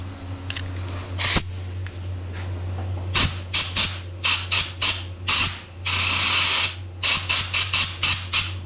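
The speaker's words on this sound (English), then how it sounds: "I'm going to grab my blowgun." Short bursts of compressed air from a blowgun clear chips from the flutes of a reamer while a stainless steel sleeve is installed in a KZ1000 rear master cylinder. The blasts come close and loud, several in quick succession, with one longer burst in the middle.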